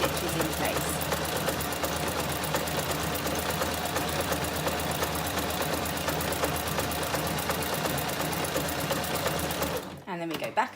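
A sewing machine runs steadily and rapidly while stitching a ripped seam in a child's leggings, its close, even mechanical chatter continuing for about ten seconds before stopping abruptly.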